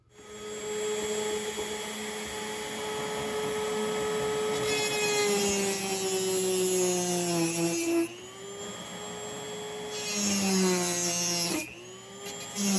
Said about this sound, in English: That's where I'm going to be trimming the rail